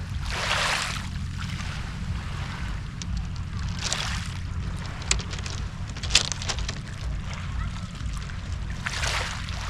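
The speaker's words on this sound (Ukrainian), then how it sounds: "Море поряд." Sea waves wash near the shore on an Istrian beach at evening, a steady low rumble with periodic swells of surf, heavy wind buffeting across the microphone and a few faint sharp knocks.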